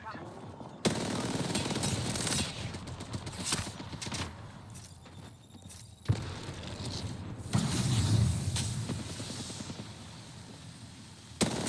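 Rapid automatic gunfire from the video game Apex Legends rattles in dense, sustained bursts with a few sharp louder shots, fairly loud and continuous throughout.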